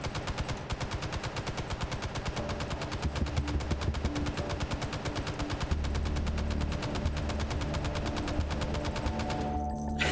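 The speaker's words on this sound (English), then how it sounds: "Let me just fire off one salvo here" An M60 machine gun in the VR shooter Hot Dogs, Horseshoes & Hand Grenades fires one long salvo of rapid, evenly spaced shots, close and loud, running nearly ten seconds before a final clatter, with no talking.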